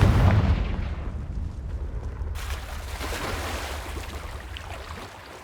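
A Confringo fire spell blast in the game Hogwarts Legacy, a loud booming impact at the start that fades into a long roaring, crackling rumble over several seconds, with no voices.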